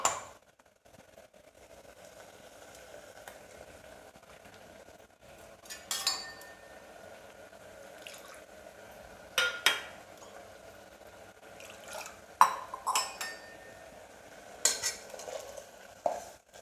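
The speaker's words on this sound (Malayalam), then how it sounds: "കുറച്ചും കൂടി വെള്ളം ഒഴിച്ച് കൊടുക്കാം." A spoon stirs and scrapes a pot of green gram and tomato curry with ground coconut and cumin as water is added, giving soft steady swishing broken by several sharp metallic clinks.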